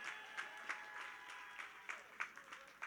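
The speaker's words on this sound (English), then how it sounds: "Give her a round of applause." Faint, sparse clapping at an outdoor political public meeting in Belmont, a few distant hands applauding an outgoing member of parliament, with irregular individual claps over a quiet background.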